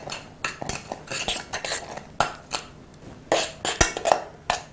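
Spoon stirring homemade gochujang with coarse sea salt in a bowl, a close series of irregular clinks and scrapes against the dish, fairly loud, with no talking.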